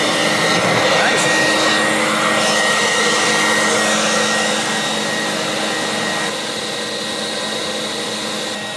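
A sump cleaner vacuum sucks coolant out of a CNC machine sump, a loud, steady motor roar and suction hiss that holds for several seconds and slowly eases slightly, with no talking over it.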